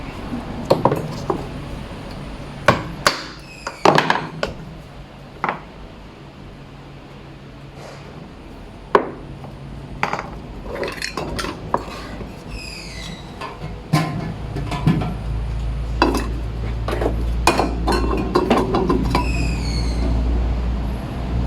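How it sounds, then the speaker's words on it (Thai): A can of matte lacquer being shaken, giving repeated sharp metallic clinks and rattles in irregular bursts, with some quiet gaps and a low background hum building toward the end. "ขย่ากระป๋องก่อนนะครับ"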